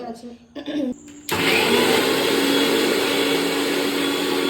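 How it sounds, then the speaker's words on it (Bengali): Ginger, garlic and onion being ground in a kitchen blender: after a few short stop-start bursts and a voice speaking, the motor settles into a loud, steady whirring grind that runs to the end. "এই যে আমাদের আদা রসুন পেঁয়াজ এখন বাটা চলছে"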